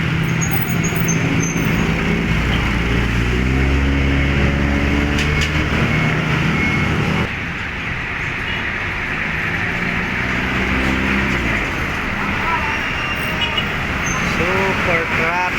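Heavy highway traffic in San Ildefonso, Bulacan, with big trucks, trailers and cars rumbling past close by in a dense, continuous roar, while someone talks over it.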